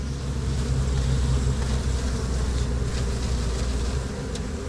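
Dense honeybee buzzing from a package of about 10,000 bees being installed into a hive, a steady close drone with a low-pitched hum that holds throughout.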